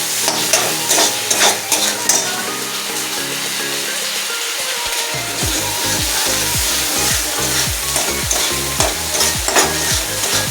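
Spices with turmeric and salt frying in hot oil, a loud steady sizzle with bursts of splattering crackle and repeated scraping stir strokes throughout, no talking.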